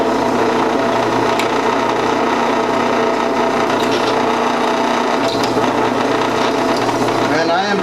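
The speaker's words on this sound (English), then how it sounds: "So I'm going to start drilling my first hole." A steady, close mechanical whirring of a power drill boring through glass runs continuously through the clip, with a brief rise in pitch near the end.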